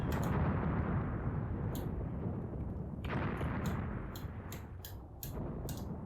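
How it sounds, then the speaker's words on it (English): Mortar fire in the wartime tactics game Graviteam Tactics: Mius Front, a continuous low rumbling barrage with distant muffled thuds and a few sharp cracks rolling through, moderately loud with no voices. "And that must be our mortars zeroing in"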